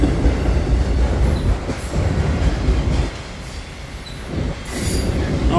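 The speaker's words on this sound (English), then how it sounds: "Like I said before, he sounds like he's slowing down too." Autorack freight train rolling past close by and slowing down, with a steady heavy rumble of wagons, rhythmic wheel clatter, and intermittent high wheel squeal, loud and continuous.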